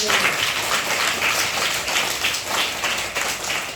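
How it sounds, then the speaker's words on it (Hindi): A classroom of children clapping loudly together, a dense sustained burst of applause heard up close. "हाँ, जोरदार ताली।"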